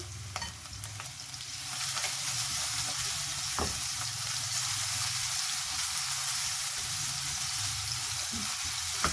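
Chopped green chillies frying in a pan for a rice dish, a steady broadband sizzle holding evenly throughout with a few faint clicks, close and alone without talk.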